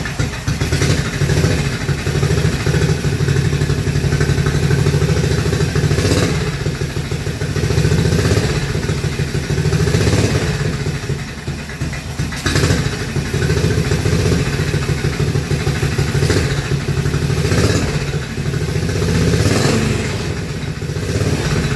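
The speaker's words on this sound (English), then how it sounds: "let's just pull the choke on this carburetor. See if it'll go" A Panther motorcycle engine, running on a carburetor with the choke pulled, idles steadily and loudly in an enclosed building, with a throbbing low clatter and a few small swells in revs throughout.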